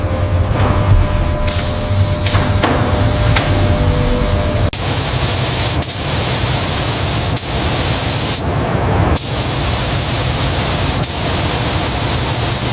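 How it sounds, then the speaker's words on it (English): Loud continuous hiss of robotic electrostatic spray nozzles painting car bodies in a factory color booth, a dense steady spray punctuated by brief pauses and shifts, with no voices. "Robots spray paint using electrostatic nozzles."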